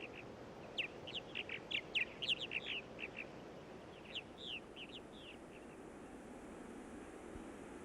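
Purple martins chirping around their housing, a flurry of quick high chirps and warbles in clustered bursts over a soft steady background hiss, fading out toward the end.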